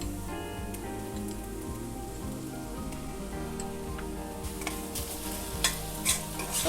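Ginger garlic paste being stirred into frying onions for pork vindaloo, a constant crackling sizzle with soft scraping strokes of a spoon and a few louder clanks near the end, close and without speech.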